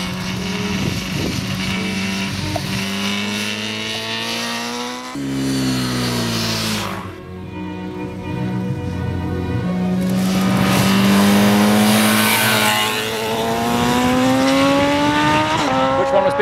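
A race-tuned motorcycle engine screams up through the gears toward 10,000 RPM, its rising whine climbing, dropping briefly at a shift, then soaring again, loud and close on a track, with little else heard.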